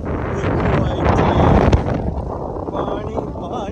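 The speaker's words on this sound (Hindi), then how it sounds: "हवा चल रही है पूरी फुल।" Strong wind gusting outdoors beside open water in Quebec City, a loud, steady roar buffeting the microphone, easing somewhat in the second half, with someone talking throughout.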